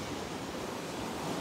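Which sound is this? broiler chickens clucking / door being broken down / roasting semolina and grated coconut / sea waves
sea waves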